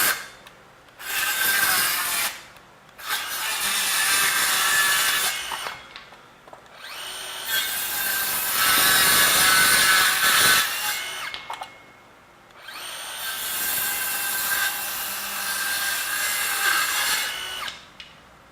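A DeWalt XTREME 12V DCS512B cordless circular saw makes a series of cross cuts through 3/4 inch plywood. Loud bursts of cutting whine are separated by short pauses, several cuts in a row.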